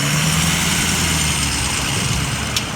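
A dual sport motorcycle engine running low and steady as the bike backs up on a roadside, a close, continuous rumble with no talk.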